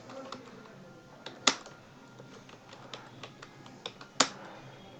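Soft, irregular keystrokes tap on a computer keyboard while code is typed, with a few sharper, louder key presses standing out from the quiet clicking.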